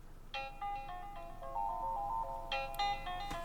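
A test tone from the in-call speaker of a Samsung Galaxy Z Fold phone: a faint, thin ringtone-like melody of short beeping notes in a repeating pattern, heard at a distance over low background hiss.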